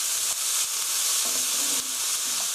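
Sliced onions stir-fry in a hot pan with a dense, steady hiss and sizzle, close and loud, with faint scrapes and knocks from stirring.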